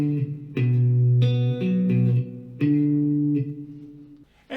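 Electric guitar playing a bass-line riff, a short sequence of clean, close single notes stepping up and down in a loping rhythm, then fading out.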